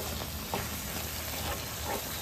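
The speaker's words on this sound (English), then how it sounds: "Now nicely stir this" Carrot halwa being stirred in a pan just after condensed milk is added: a steady soft hiss with a couple of brief scraping strokes, close and continuous.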